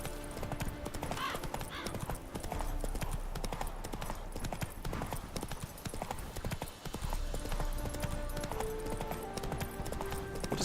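Roach, Geralt's horse in The Witcher 3: Hearts of Stone, gallops in a steady run of hoof clip-clops that continues for the whole stretch, with a brief whinny and faint game music beneath, and no voices.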